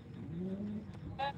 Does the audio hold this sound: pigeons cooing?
yes